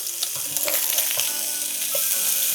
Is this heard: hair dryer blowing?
no